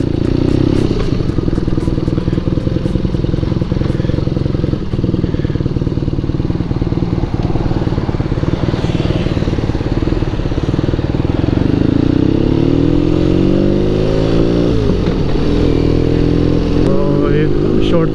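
A BMW R nineT motorcycle drones steadily at speed on an expressway, its engine loud and continuous under wind noise, with shifts in pitch as it accelerates near the end.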